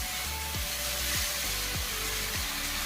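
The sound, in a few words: grated carrot frying in a pan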